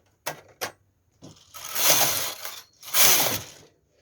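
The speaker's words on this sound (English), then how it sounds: "So I'm going to bring the empty needle back to work and knit 2 rows." A knitting machine knits two rows of a lace pattern: a few sharp mechanical clicks come first, then two long rattling sweeps of the carriage across the needle bed, close and loud with brief gaps.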